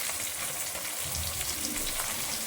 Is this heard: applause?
no